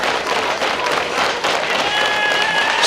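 Wrestling audience at Tickers applauding the winner of an RWA match, a loud, continuous burst of clapping and crowd noise filling the whole moment.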